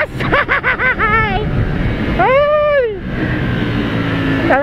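A CFMOTO 450NK motorcycle with 39 Nm of torque revs hard on a test ride, its engine note sweeping up in rapid climbing bursts through the gears, then rising again into a long, loud pull over wind noise.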